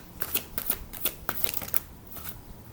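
Tarot cards are shuffled by hand in quick riffling bursts, a soft papery patter repeating about a dozen times in close succession before tapering off.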